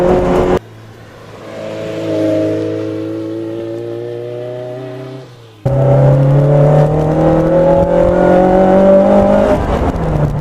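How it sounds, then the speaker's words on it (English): A Lotus Elise Sport 160 with its mid-mounted K-Series engine drives hard, the engine note rising steadily under load, briefly dropping, then surging again louder and rougher as the car accelerates, heard from inside with no talk. "It's got a throbbing K-Series behind it."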